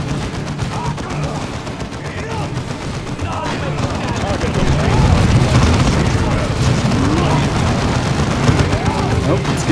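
Explosions and gunfire in the video game Dawn of War 2 pile into a dense battle roar, with booms and rapid shots swelling louder midway and staying heavy to the end, while a voice talks over the game.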